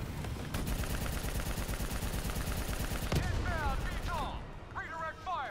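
Rapid automatic gunfire in the Call of Duty: Black Ops 3 campaign, a dense continuous burst of shots that cuts off abruptly, followed by electronic game effects.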